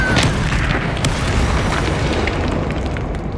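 A Confringo spell explosion in Hogwarts Legacy booms loudly at the start, then rumbles and crackles as the blast decays over a few seconds.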